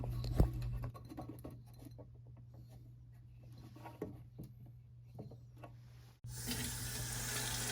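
Tap water runs into an emptied, cleaned container being readied for a betta fish. Faint dripping and glassy clinks give way to a steady, louder rush of running water near the end.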